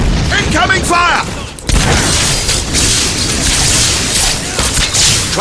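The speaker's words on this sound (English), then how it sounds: "Can you take that mortar out? Incoming fire!" Mortar fire and explosions in the video game Fable 3: a loud, dense run of booming blasts and crackling bursts that keep going, with a voice speaking over the start.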